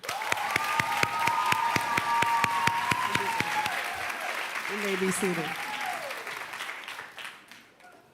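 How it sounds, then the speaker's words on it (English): Applause and cheering from a crowd at a high school commencement, sharp claps filling the hall for several seconds before fading as a voice speaks over the tail end. "Please clap it up for them"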